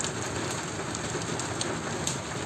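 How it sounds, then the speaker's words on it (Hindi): Steady rain falls after a hailstorm in Jamshedpur, India, a dense, even patter and hiss with no voices. "अब बर्फ गिरना बंद हो गया अब होने लगा है बारिश"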